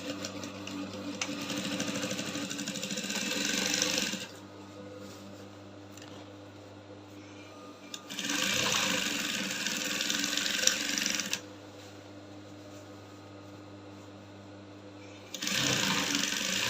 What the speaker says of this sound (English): I'll just go ahead and stitch right on top of the seam allowance.